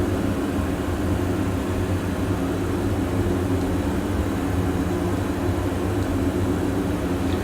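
Steady engine drone of a Diamond DA42 twin-engine aircraft flying an IFR training approach with flaps set, a constant loud cabin hum with no breaks or talk.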